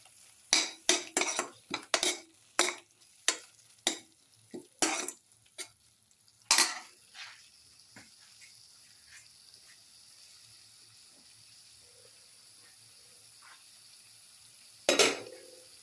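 Utensil stirring tomato casserole ingredients in a pan, with a quick run of sharp scraping clinks for about seven seconds, then a quiet stretch and one more clatter near the end.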